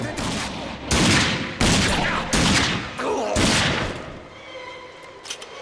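Several loud pistol shots ring out in quick bursts in the video game RAGE, each a sharp broadband crack with a short decay, followed by quieter game ambience and a few faint clicks.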